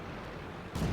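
A single heavy tank gun shot in World of Tanks booms in abruptly near the end after a brief low rumble of engine noise.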